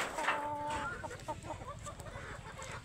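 Native chickens cluck close by in a short burst, one bird giving a drawn-out call over busy, overlapping farmyard clucking.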